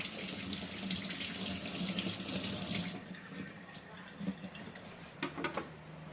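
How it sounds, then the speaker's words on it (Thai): Tap water runs steadily at a kitchen sink as salt is rinsed off salted eggs, then shuts off, leaving quieter dripping, soft shell clicks and handling sounds close by. "เราก็จะเอาออกมาล้างเกลือออกให้หมดนะคะ"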